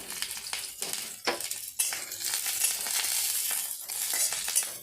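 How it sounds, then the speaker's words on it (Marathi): Chopped onion and green chili fry in a hot pan, with a steady close sizzle broken by short scraping and stirring clatters from a utensil. "थोडासा कांदा असा तळून घ्यायचा."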